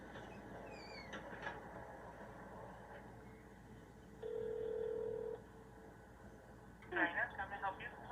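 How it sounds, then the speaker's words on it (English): Someone dials a telephone to place a call, and short beeping tones sound under faint background noise. A steady tone sits in the middle, and a burst of quick, brighter sounds follows near the end. "I just have to make this phone call."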